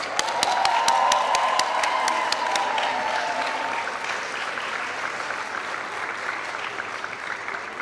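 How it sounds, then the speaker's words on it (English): Sustained audience applause at a Vilnius University Faculty of Medicine diploma ceremony for new doctors of medicine: a dense wash of many hands clapping, loudest at the start with a few sharp clicks early on, then gradually easing off. "Please congratulate them once again with a round of applause"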